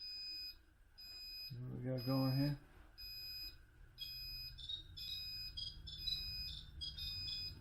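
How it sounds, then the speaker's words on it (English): Beeping from a boat's electronics fills the scene, a run of high, repeated electronic tones in short regular bursts, fairly close, with someone briefly speaking over it. "Alarm."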